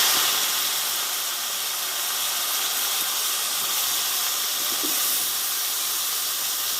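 Neem leaves and eggplant dropped into a pan of hot oil with slit green chilies and panch phoron, giving a loud, steady, broadband hiss of sizzling that continues without a break, no voices.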